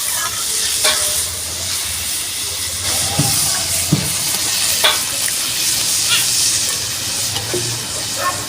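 Water poured into a simmering taro and fish curry in a pan, a loud steady hiss and bubbling with scattered clinks and scrapes of a utensil, faint voice in the background.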